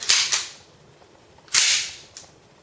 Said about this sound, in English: The slide on this gun feels and sounds very, very nice. It gives a very nice metallic clunk that actually sounds more gun-like instead of toy-like